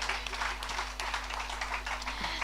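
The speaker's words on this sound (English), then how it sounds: "invite you to just give them a round of applause" An audience at an honours ceremony claps continuously, a dense patter of many hands with a low steady hum underneath.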